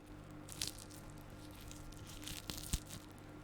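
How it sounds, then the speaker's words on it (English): Crispy batter on a haggis and beef sausage crunches between the teeth in a couple of close, faint bites with soft crackles, then quiet chewing, with no talking. "Crunch, crunch on the batter."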